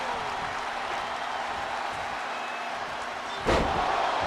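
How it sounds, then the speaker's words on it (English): In the WWE 2K24 video game, a wrestler is slammed onto the ring canvas: one sharp, heavy impact bursts out near the end over a steady roar of arena crowd noise. "Slams Ilya down onto the canvas."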